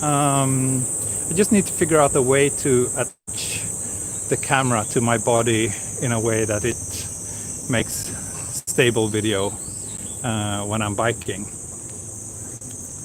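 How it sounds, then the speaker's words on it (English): Cicadas in summer Japan, near Tokyo Tower, drone in a constant, high, shrill buzz throughout while a person talks over them nearby. "Yes, those are cicadas."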